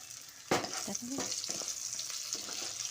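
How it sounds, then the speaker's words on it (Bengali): Cut eggplant added to potatoes already frying in oil in a pan, a sharp splash of sizzle at the start followed by steady frying hiss and a few stirring scrapes. "বেগুনটা দিয়ে আলুর সঙ্গে একসঙ্গে ভেজে নেব"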